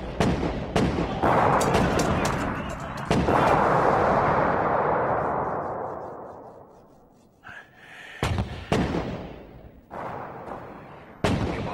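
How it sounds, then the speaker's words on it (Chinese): A film bombardment of artillery fire aimed at the Shaolin temple: a rapid string of heavy booming blasts merging into a roaring rumble that fades, followed by a few more sharp, loud detonations. "给我炸，给我拼命的炸。"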